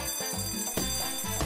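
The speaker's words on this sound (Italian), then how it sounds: "Finché la tua sveglia non suona!" An alarm clock rings close by, a loud, bright electronic tone pulsing in quick repeated bursts with no voices.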